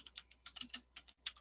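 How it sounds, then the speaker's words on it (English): Quiet, irregular keystrokes tap on a computer keyboard in short clustered bursts with brief pauses, faint and close, with no speech over it. "I still hear you typing, Ram."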